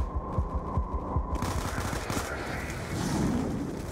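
Rapid gunfire bursts from a Call of Duty Black Ops 4 style shooter game crackle and thump in quick repeated volleys, with a steady game hum running underneath and no talk.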